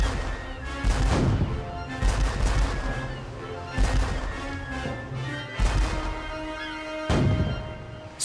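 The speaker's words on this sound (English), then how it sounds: "Hornigold's 3 ships attack the French ship with their guns." Sound effect of sailing ships firing guns on a French ship, heavy booming shots every second or so over a rumbling, crashing battle din, loud and close with no talking.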